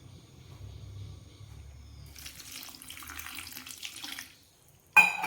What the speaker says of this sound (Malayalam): കുറച്ച് വെള്ളം ഒഴിച്ച് സ്റ്റൗ നോക്കാം